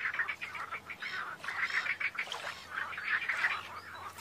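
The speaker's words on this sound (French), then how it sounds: "C'est une poule d'eau que les renards impressionnent si peu qu'elle élève ses poussins dans leur parage." A moorhen in Belgian wetland giving repeated harsh, nasal calls in quick bursts, moderately close and clear with no talk over them.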